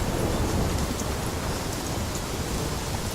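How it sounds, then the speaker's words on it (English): Heavy rain from a storm in a video game pours down steadily, a loud, dense hiss with low rumbling thunder underneath, and no voices. "This storm is kicking."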